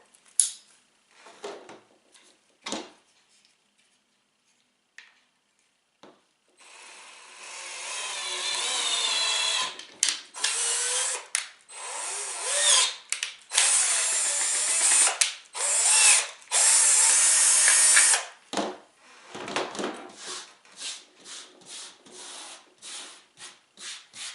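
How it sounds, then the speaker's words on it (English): A power drill whirs in several bursts while drilling a rope hole for a kayak brush gripper, some long and sustained, others short, with quiet gaps and faint handling noises between them. The drilling sounds close and loud. "drill out the hole to get started with for my rope"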